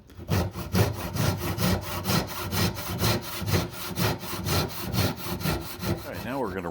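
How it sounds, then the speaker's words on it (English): A hand saw cuts the corners of a wooden Queen Anne table leg held in a vise, with loud, close, rhythmic back-and-forth strokes, roughly two per second. "I'm going to take a saw and cut the corners up."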